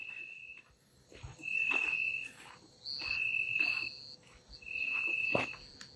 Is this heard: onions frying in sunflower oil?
no